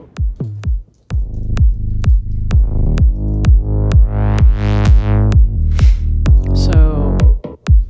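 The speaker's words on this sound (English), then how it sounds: "So I'm pretty sure I started with the kick and the bass and the toms." Kick, bass and toms from an electronic song built in Ableton, with a bass line from a UAD Mini Moog plugin: a loud, steady four-on-the-floor kick under a deep bass, with a rising pitched sweep and rolling tom hits toward the end.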